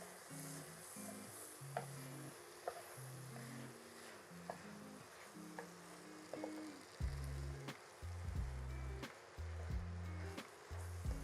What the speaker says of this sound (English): We're gonna give that another stir.